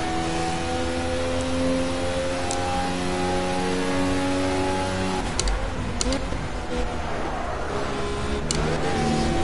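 A race car engine in the Project CARS racing game drones steadily with strong harmonics, revving and shifting pitch as the throttle is worked, loud and continuous throughout.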